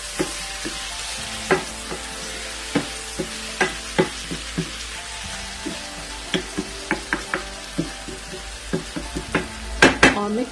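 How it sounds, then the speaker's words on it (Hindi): Chopped tomatoes are stirred into bhindi chicken (chicken with okra) in a pan, with steady, repeated scraping knocks of a spoon against the pan over a soft sizzle; the strokes get busier and louder toward the end. "अब मैं इसमें एक अदर चॉप टमाटर ऐड कर रही हूँ, तो मैं मिक्स करूंगी"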